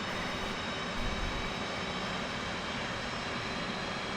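An F/A-18 right engine spooling up inside the DCS World flight simulator gives a steady, loud, broadband jet roar that holds even and continuous throughout, with no voices.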